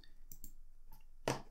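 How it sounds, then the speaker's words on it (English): Mouse clicks on a TryHackMe web page: a few quiet, sharp clicks in a near-silent room, with a stronger final click near the end. "So we can click on complete."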